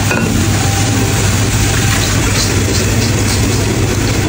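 Homemade fried garlic crackles in hot oil for a bone soup, a loud, dense, continuous sizzle with no pauses.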